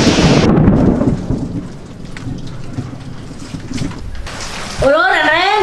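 Heavy rain pours steadily with rumbling thunder, loud and close throughout, and a voice breaks in near the end.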